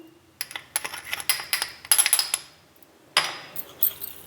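A spoon clinks and scrapes against a bowl while a paste with garlic, oregano and cornflour is mixed, giving irregular sharp metallic taps in quick clusters, a short pause, then a few more.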